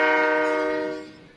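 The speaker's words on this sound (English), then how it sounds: "so here's a train" A train horn sounds once in a car destruction video game, a loud steady tonal blast that fades out over about a second.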